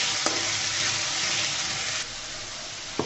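Ground ginger and cumin spice paste fries in hot oil for a vegetarian radish dish. A loud, steady close sizzle runs throughout, dropping slightly partway, with a couple of sharp clicks from a stirring spoon.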